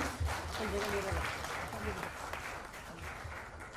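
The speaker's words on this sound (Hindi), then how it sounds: "I request once again with round of applause everyone" Crowd applause at a Bhojpuri film music launch with Suneil Shetty and Rakhee Sawant, steady clapping from many hands held at moderate level, with a voice speaking over it.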